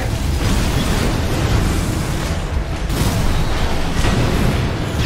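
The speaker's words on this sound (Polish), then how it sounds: "Wybuch, okej." A loud, sustained rumbling blast with booming bursts that rise and fall, like layered explosions in the game Armored Core VI: Fires of Rubicon, with no voices.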